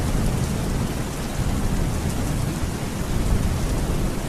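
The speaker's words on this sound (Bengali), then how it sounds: "ইস, বৃষ্টি আবার জোরে এলো রে।" Heavy rain pours down steadily, a dense, loud roar of water without pause, with no one speaking.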